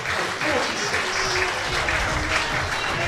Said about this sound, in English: he's getting a very welcome round of applause